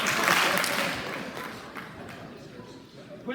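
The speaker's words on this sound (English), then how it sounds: "Okay, 2 claps for that." An audience at a senior honors night claps in a brief burst that starts loud and quickly fades away.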